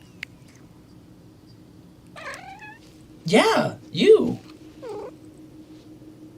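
Pollux, a pet cat, gives a few short bird-like chirps, the louder ones close together near the end, while a person speaks nearby.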